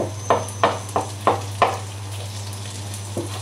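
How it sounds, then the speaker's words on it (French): Close-up kitchen sounds: a steady low hum with a series of five sharp, evenly spaced scraping strikes, then a quieter one, over faint sizzling of butter in a pan while making spaetzle. "Le beurre qui commence à crépiter"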